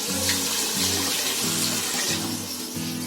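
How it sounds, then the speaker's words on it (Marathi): Water pours steadily into a cooking pot for a stall-style Manchurian soup, a continuous close gushing stream that stays loud from start to finish, with no one talking. "तर मी थोडे पाणी टाकणार."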